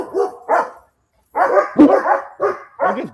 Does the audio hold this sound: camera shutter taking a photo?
no